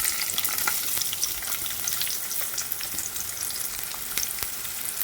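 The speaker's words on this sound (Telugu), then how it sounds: "ముందుగా కట్ చేసి పెట్టుకున్న ఉల్లిపాయ ముక్కలు అయితే వేసుకోవాలి." Chopped onions fry in hot oil in a kadai for an Andhra chicken curry, giving a steady, dense sizzle that holds evenly throughout with no talking.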